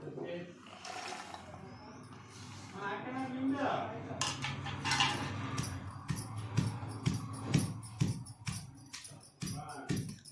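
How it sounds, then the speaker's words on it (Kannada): Curry leaves, chilli powder and tomatoes pounded by hand in a kitchen: a run of sharp, irregular knocks and clinks against a vessel, close and fairly loud, with people chatting over and between the strikes. "ಈಗ ಇದೆಲ್ಲ ಮೆತ್ತಗೆ ಕುಟ್ಕೋಬೇಕು."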